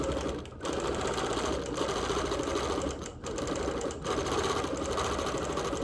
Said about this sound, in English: Backtrack a little and then quilt a petal with a little indentation.